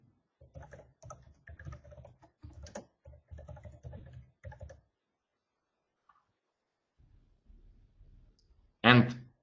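Computer keyboard typing and mouse clicking at a desk during a software demonstration, bursts of rapid close key taps in clusters, a pause, then a louder final click.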